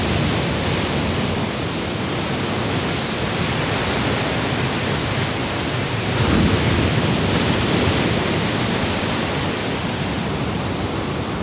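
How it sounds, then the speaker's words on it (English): Ocean waves roll in and break against the Oahu shore, making a continuous loud rushing wash of surf that swells slightly midway with no voices. "the swell is free to grow into impressive rollers that then break against the shore"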